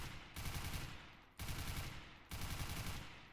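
An AUG rifle sprays in a video game, three bursts of rapid automatic gunfire, each cutting in sharply and rattling continuously for about a second before the next begins.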